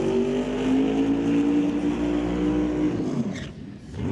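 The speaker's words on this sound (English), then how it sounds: "car coming to life and getting ready to roll through the water box" A drag race car fires up and revs loudly at an NHRA Northwest National Open Series event, preparing to roll through the water box; a steady, strong engine drone holds for about three seconds, then the pitch drops as it eases off.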